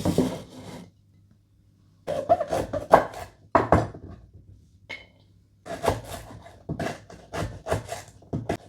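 Knife on a cutting board roughly chopping lemongrass stalks: bursts of quick, close, rasping cuts separated by pauses.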